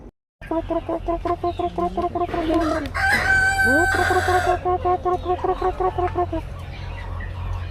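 A rooster crows loudly nearby over repeated hen clucking, with other birds and a faint voice in the background.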